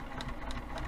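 A Juki sewing machine runs briefly while stitching a fabric pouch, giving a steady close mechanical whir with a faint rhythmic pulse over less than a second.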